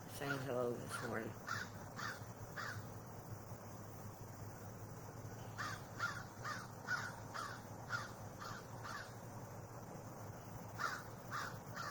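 A raven calls in the morning with a series of harsh, repeated caws in uneven bursts, fairly near, over a breezy outdoor background.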